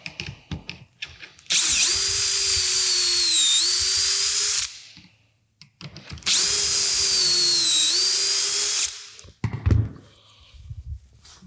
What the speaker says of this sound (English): All you need to do is drill until the stop collar contacts the drill guide to make a perfect pocket hole.